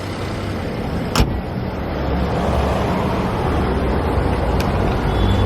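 A car with a 1-liter Boosterjet turbo engine idling, a steady low hum close by with two brief clicks over it, no voices.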